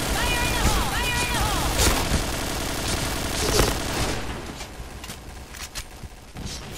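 Dense, continuous gunfire and explosions in the online shooter game Point Blank, loud and busy for the first few seconds before thinning into scattered shots, with voices talking underneath.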